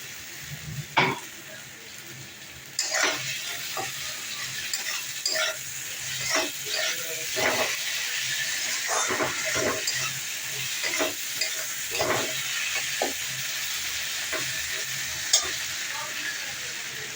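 Ginger garlic paste fries in a pan for a fish curry with a quiet sizzle that grows louder after a few seconds. Repeated scraping and tapping of a spatula against the pan run through it, and a dog may bark briefly in the background.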